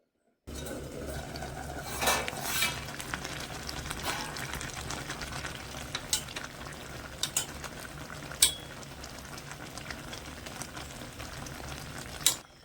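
Sugar syrup bubbling in a covered pan on high gas heat for chhanar gaja, a soft, steady simmering hiss with occasional sharp clinks of the lid and utensils, fairly quiet throughout.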